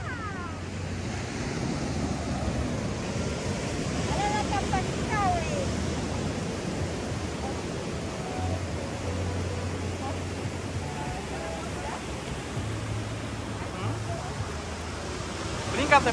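Ocean waves at the Santa Monica Pier beach wash in as a continuous broadband roar with wind buffeting the microphone, while people talk faintly in the background.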